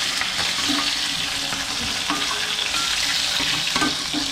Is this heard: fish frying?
yes